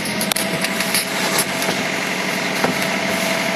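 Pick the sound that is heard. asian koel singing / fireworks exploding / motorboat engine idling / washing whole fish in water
motorboat engine idling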